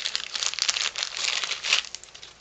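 A bag or box of craft trims is unpacked with close, bright crinkling and rustling, irregular bursts of crackle over about two seconds, with no voice.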